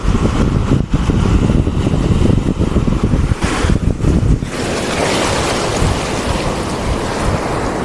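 Loud ocean waves roar and wash ashore, with heavy wind buffeting the microphone at first, then settling into a steadier rushing surf.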